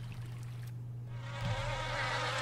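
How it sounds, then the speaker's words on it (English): Bees buzz in the video game Hugo II Whodunit, a steady close drone with a low hum beneath that swells slightly louder partway through and carries on without pause. "don't get too close to those ferocious looking bees"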